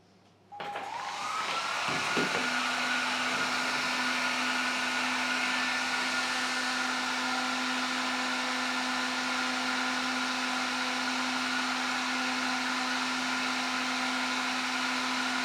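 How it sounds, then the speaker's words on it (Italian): A hair dryer runs off a BLUETTI AC500 portable power station alongside an oven. It switches on in the first second and then blows as a loud, steady whir with a constant whine, unbroken to the end. "E poi accendiamo anche il nostro asciugacapelli."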